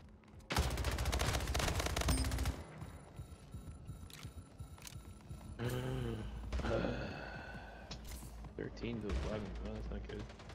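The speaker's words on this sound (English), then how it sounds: "Yo, this SMG is sick." Loud burst of SMG automatic fire in the video game Splitgate lasting around two seconds, followed by scattered game effects and announcer-style voices.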